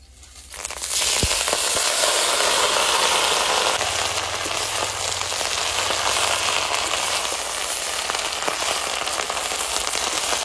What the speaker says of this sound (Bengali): পেঁয়াজ আর লঙ্কা ভালো করে ভেজে নিয়েছি, এবার শাক দিয়ে দেবো।